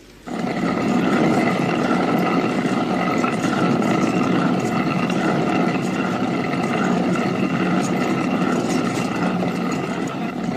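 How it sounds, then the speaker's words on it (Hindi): A steady, continuous grinding rumble of a hand mill grinding grain, with a coarse rasping texture, unbroken for the whole stretch, fairly loud and close. "पीछे बरामदे से चक्की पीसने की आवाज आ रही थी"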